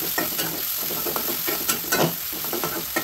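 Cubed chicken breast frying with chopped onions in hot oil and ghee, a steady close sizzle with repeated stirring scrapes and clinks throughout.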